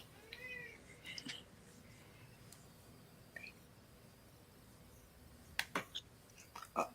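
A hungry cat meows a few times indoors, the calls faint and spaced out, with soft rustling and quiet background noise in between.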